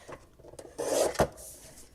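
A large rotary paper trimmer slicing paper: a single scraping, rasping cut about a second long, close and fairly quiet, ending in a brief sharp snap.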